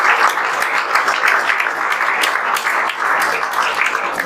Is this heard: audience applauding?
yes